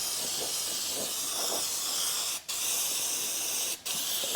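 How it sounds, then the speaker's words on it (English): Brake cleaner sprays onto the rear drum brake parts of a Toyota Hilux N70, a loud continuous aerosol hiss broken by two brief pauses between bursts. "I'm just going to get some brake clean all that off."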